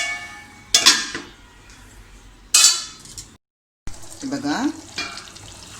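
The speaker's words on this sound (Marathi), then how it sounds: "10 मिनटांनी मी सहज असं परतून बघते आहे." Chicken lapeta being stirred in a kadhai, with bursts of sizzling and scraping of the spoon against the metal pan. The bursts come in a few strokes separated by quieter frying, and a brief word is spoken.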